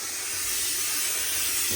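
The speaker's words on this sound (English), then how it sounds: "So I'm going to put a bit of steam on there." A burst of steam hisses continuously onto a leather Homburg hat during restoration, a bright, airy spray that swells slightly louder toward the end.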